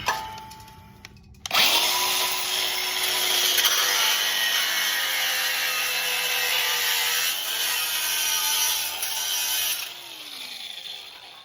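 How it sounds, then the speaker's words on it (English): Metal being cut off during an LS engine swap on a Nissan 300ZX drift build: a loud, steady grinding-cutting tone that starts abruptly and runs continuously for about eight seconds before winding down. "So we're about to cut the rest of this off, go test fit it and make sure it works"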